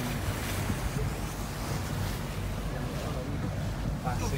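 Boat ride on the sea off Mallorca, with steady waves and surf washing around the hull under constant wind buffeting the microphone.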